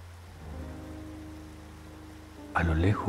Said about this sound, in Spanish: Ahora enfoca tu atención un momento en el sonido tan relajante que produce el agua